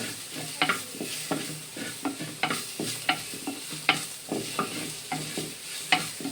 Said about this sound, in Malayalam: ഇനി നമുക്ക് ഇതിലോട്ട് നമ്മൾ അരച്ച് വെച്ചിരിക്കുന്ന ഇഞ്ചിയും വെളുത്തുള്ളിയും കൂടെ ഇട്ട് കൊടുക്കാം